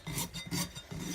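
Steel rasp filing a horse's hoof during a trim, a rough scraping stroke repeated three times in a steady back-and-forth rhythm, close and clear with no talking.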